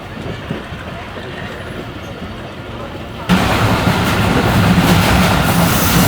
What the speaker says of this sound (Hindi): हैदराबाद से चलने के बाद फिर इस तरह की रफ्तार में ट्रेन हमारी आगे बढ़ रही है